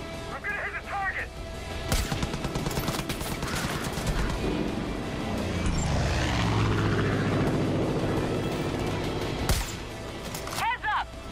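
A plane flying overhead in the video game Far Cry 5, a droning propeller engine that swells and sweeps past during an approach, with game effects and voices talking over it.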